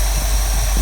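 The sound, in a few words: 1972 Lincoln Mark IV 460 V8 big block engine idling, air cleaner off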